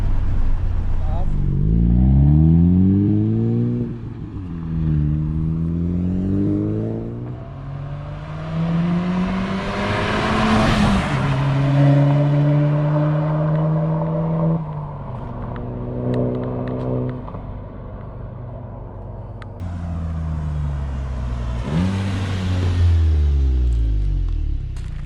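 A VW Mk7.5 GTI with a newly installed exhaust revs repeatedly, engine pitch sweeping up and down in several loud blips and holds, close by and ringing out over a garage setting.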